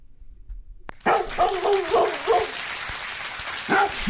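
Several dogs bark and yip in a loud, overlapping burst with a crowd-like roar underneath, then a second round of barks near the end.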